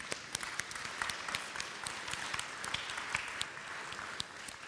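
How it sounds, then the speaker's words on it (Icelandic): Applause from a seated congregation for the choir at a confirmation service, a steady patter of many hands clapping at moderate distance with no talking over it. "við getum klappa fyrir kórnum bara"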